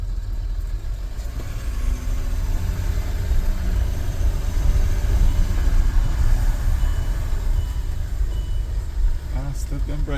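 A repaired Land Rover Discovery 3 sets off on its first drive after being a non-runner, a steady low engine and road rumble from inside the cabin, with people talking over it.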